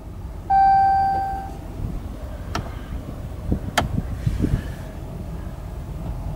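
A 2016 Ram 2500 Lone Star with the 6.4 engine shifts into four-wheel low: a sharp electronic chime opens, followed by a couple of distinct mechanical clicks and a low rumble inside the cab.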